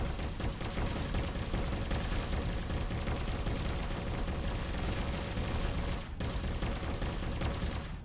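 Space-combat weapons fire striking a target in the game Avorion: a dense, continuous barrage of rapid impacts and blasts, loud and unbroken for the whole stretch apart from one brief dip.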